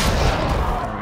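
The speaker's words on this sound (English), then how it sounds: "Let's shoot it." A gunshot from the XCOM 2 video game lands as one loud, dense burst of blast-like noise, filling the whole second with no talk over it.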